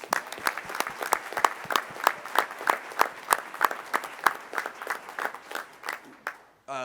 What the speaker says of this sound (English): And so I think that's a round of applause for those ladies.